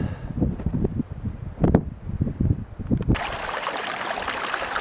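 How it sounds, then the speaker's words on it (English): A mountain stream in the Sierra flows steadily at a trail rest stop, heard up close with broadband rushing that turns louder and brighter near the end, mixed with wind buffeting the microphone and a few rustles. "Taking a little break here by this stream."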